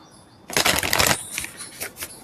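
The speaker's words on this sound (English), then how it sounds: "So I was shuffling my deck" A quick riffle of cards being shuffled close by, a dense flutter lasting under a second, followed by a few softer taps and slides.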